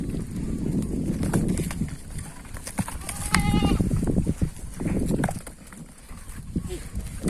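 On a goat and sheep farm, rams tussle over a ewe in heat while sheep bleat now and then and hooves shuffle and clatter. People talk throughout, with someone speaking over the animals.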